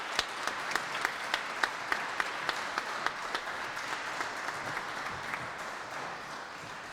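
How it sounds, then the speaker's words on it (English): Audience applause at a brass band festival comes from a moderately distant crowd, with a few sharp, rhythmic claps standing out over the wash of clapping early on before it settles into a softer, steady patter. "another round of applause for James, Eleanor, Sandra, and Georgia."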